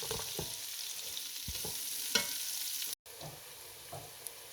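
Two large onions fry in ghee with a soft, continuous sizzle, broken by scattered scraping stirs and clinks of a spoon against the pan and a brief dropout near the end.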